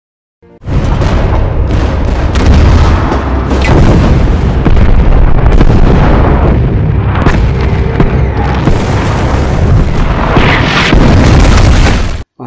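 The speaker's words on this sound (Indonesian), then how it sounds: "Setelah koordinat siap, artileri pun langsung ditembakkan." Artillery guns fire on Soviet soldiers in a war film about German tanks attacking, a dense, loud barrage of booming blasts and explosions running continuously for about twelve seconds with no talk.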